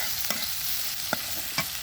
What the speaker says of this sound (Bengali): তেলের মধ্যে দিয়ে দিচ্ছি পেঁয়াজ আর একটা তেজপাতা।